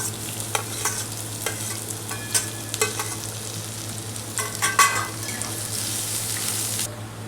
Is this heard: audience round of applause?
no